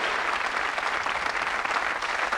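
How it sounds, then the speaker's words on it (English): A television studio audience claps steadily for a former comedy star being introduced on a game show, a dense, even wash of applause with no voices over it. "A big round of applause, please, for former comedy superstar,"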